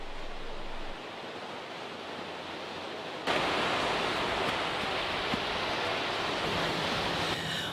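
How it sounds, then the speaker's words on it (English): Wind blows on a beach during surf fishing, a steady broadband roar that jumps louder partway through and then holds, with no voices. "the wind was pretty much blowing the whole time"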